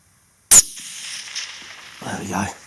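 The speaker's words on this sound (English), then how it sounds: "So we'll just aim off slightly on the next shot." A single sharp, loud shot from a Browning X-Bolt bolt-action rifle, fired once and followed by a brief ringing decay, with a voice speaking afterward.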